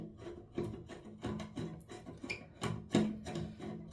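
Nuts on a bathtub drain linkage overflow assembly being tightened, a series of faint scraping, ratcheting rubs in an irregular rhythm, close up and quiet with no speech.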